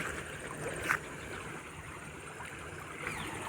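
A farm-side stream gurgles and rushes steadily throughout, a close, continuous wash of flowing water with no talk.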